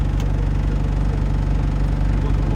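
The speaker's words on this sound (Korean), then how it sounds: "일반 공회전 RPM으로 돌아오고요" A Mercedes Unimog wildfire-fighting truck's engine idles steadily at normal idle RPM, a close, constant low-pitched rumble with no talk over it.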